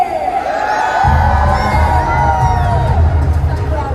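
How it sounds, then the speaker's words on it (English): Children in a crowd at a kids' show in Dubai Festival City Mall cheer and whoop loudly, a dense babble of high shouting voices over booming background music. "Can I get a big cheer?"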